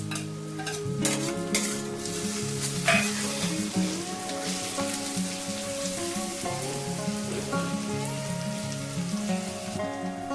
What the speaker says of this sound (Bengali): এখানে আমি পেঁয়াজটা হালকা লাল করে ভাজবো।